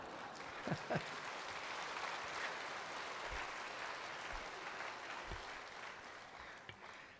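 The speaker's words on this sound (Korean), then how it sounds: "할아버지가 보세요, 박수 쳐주고 있어요" Steady crowd applause at a main stadium, a dense wash of many hands clapping continuously, with a few sharper claps standing out near the start.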